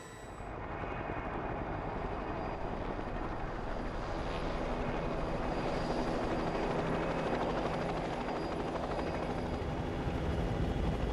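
A helicopter flies over a mountain fault line, its rotor and engine making a steady, loud, close drone that holds evenly throughout with no voices.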